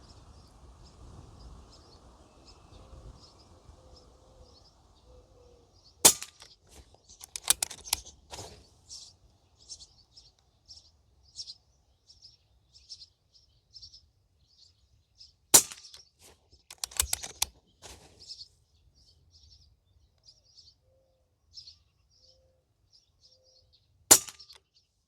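An Umarex Notos air rifle fitted with a moderator fires a group of shots, each a sharp, muffled crack, spread out with long pauses between them, while birds chirp faintly in the background.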